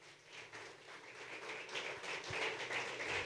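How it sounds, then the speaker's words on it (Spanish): A church congregation claps together in steady, rhythmic applause, a moderately distant patter of many hands that swells slightly toward the end with no one speaking over it. "Dale palmas a nuestro Señor por eso."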